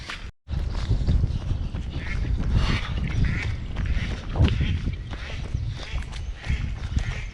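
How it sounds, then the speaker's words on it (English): Ducks quacking outdoors during a stormy run, with continuous wind buffeting and rain-like noise throughout; the calls are mixed into the rough weather noise rather than standing out clearly. "Even the ducks are complaining."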